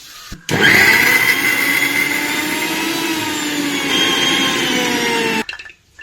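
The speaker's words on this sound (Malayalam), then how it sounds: "മിക്സിയിലിടുക എന്നിട്ട് കുറച്ച് പുളിവെള്ളം പുളി ഞാൻ റെഡിയാക്കി വെച്ചിട്ടുണ്ട് പുളിവെള്ളം ഒഴിച്ചിട്ട് നമുക്കിതൊന്ന് അരച്ചെടുക്കാം" A mixer grinder whirs loudly and steadily as it grinds chutney with tamarind water, its motor whine holding a constant pitch for about five seconds before cutting off abruptly, near and alone without voices.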